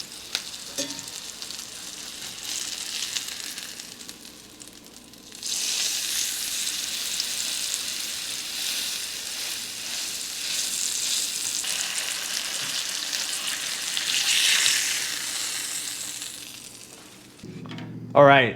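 A tuna steak sears in a hot pan, its loud, continuous sizzle swelling as the fish is pressed down, preceded by a quieter stretch and ending with a brief clatter.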